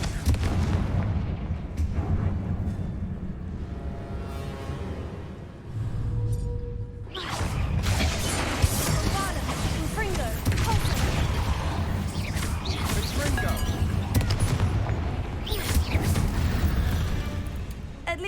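Confringo fire spells in Hogwarts Legacy set off loud booming explosions with whooshes and crackling debris, a heavy blast sequence that settles briefly before another sustained burst of rumbling fire and impacts, with game character speech mixed in.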